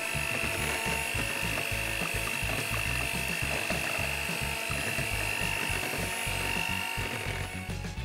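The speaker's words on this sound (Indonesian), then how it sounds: "Setelah itu bisa kalian campur dengan mixer ya teman-teman" An electric mixer beating flour batter, giving a steady close whirring with a fast ratcheting, gear-like rattle that continues without a break and without talk.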